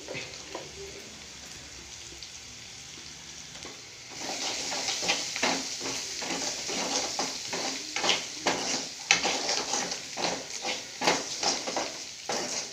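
Ginger frying in oil for ginger pachadi while turmeric and chili powder are stirred in, quiet at first, then a steady sizzle breaks out with repeated scraping stirs of a spoon against the pan.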